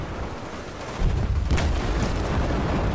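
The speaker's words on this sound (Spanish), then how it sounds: "un montón de explosiones" Deep, rumbling explosions in Battlefield 4 on the Baku map boom continuously over a dense roar, one sharper blast standing out midway, loud and close with no talking.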